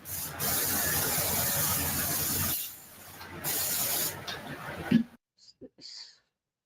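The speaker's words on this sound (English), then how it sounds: "Does the apartment smell that bad that you have to just willy-nilly start spraying stuff?" Aerosol spray hissing in an apartment in two long, loud, close bursts separated by a short pause, followed by small clicks and a brief quieter puff at the end.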